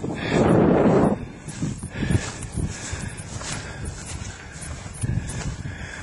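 Wind gusts across an exposed hillside crest on St Kilda, buffeting the microphone in a loud rush at first, then easing to a steadier, lower blustering with scattered softer gusts.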